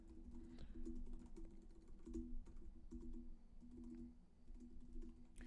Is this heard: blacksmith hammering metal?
no